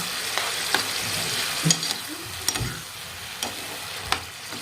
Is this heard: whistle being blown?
no